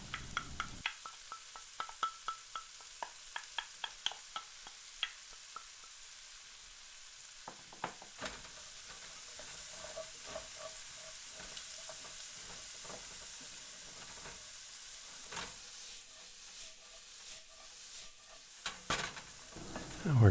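Chopped vegetables for a spaghetti bolognese go into a hot pan, starting with sharp clatters and taps, then settling into a steady frying hiss with occasional scraping stirs up close.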